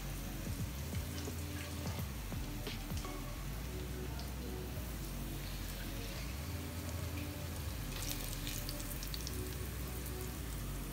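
Kingfish (ayakoora) frying in hot oil, a steady dense sizzle and crackle with scattered pops running throughout, close and continuous with no talking.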